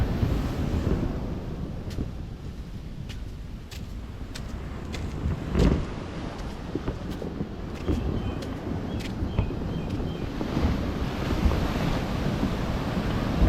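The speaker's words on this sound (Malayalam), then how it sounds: "ആ പുലിമുട്ടിൻ്റെ മുകളിൽ കൂടെ അടിച്ചു കയറുന്നിട്ട് തിരമാലകൾ ഭയങ്കരമായിട്ട്" Heavy sea waves surge over a coastal breakwater during rough weather, giving a continuous broadband roar with wind buffeting the microphone and one louder crash midway, with no talking.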